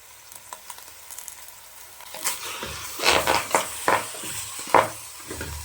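Mutton pieces coated with turmeric, salt and mutton masala sizzle in a pan, quiet at first, then a spatula scrapes and stirs in a series of close, crunchy bursts.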